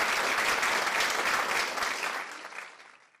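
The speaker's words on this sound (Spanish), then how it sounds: "un aplauso para los Nacionales" A studio audience claps for the Nacionales on a sports program, dense steady applause that fades out over about three seconds, no talking over it.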